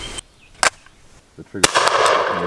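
A Rossi Circuit Judge semi-auto rifle fires two sharp shots outdoors, each a sudden loud crack with a short tail. After the second shot a broad, steady rushing noise continues, with faint voices nearby.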